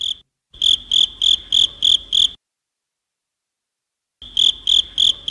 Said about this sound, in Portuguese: Excelente! Um grilo!